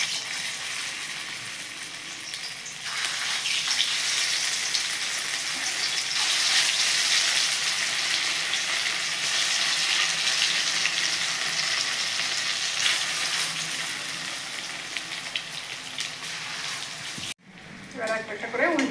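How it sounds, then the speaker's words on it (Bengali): Fritters sizzle loudly in hot oil in a heated karahi, a steady bright hiss that swells after the first seconds and breaks off abruptly near the end, with a voice speaking over it. "গরম হয়ে গেছে, আমি একটা একটা বড়ার আকারে ভেজে নেব।"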